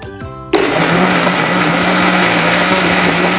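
A blender starts suddenly and runs at a steady high whir, churning a thickening pudding liquid loudly and continuously with no talking.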